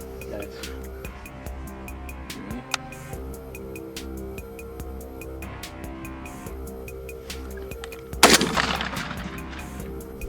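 Pigeon hunting outdoors with a shotgun: one loud, close blast rings out late, after a stretch of steady background ticking and ambient noise.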